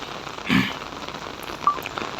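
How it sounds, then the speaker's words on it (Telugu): Steady heavy rain in Kuwait patters with a constant soft hiss, with a brief louder gust of splashing partway through and no voices. "ఎంత వర్షం పడుతుంది చూడండి"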